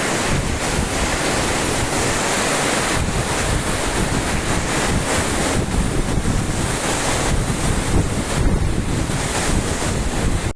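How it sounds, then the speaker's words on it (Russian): Strong wind and heavy rain at a seaside beach in Vietnam, a loud, unbroken roar of gusts buffeting the microphone over crashing surf, steady and close throughout. "Вообще капец, с таким ветром, с таким дождем"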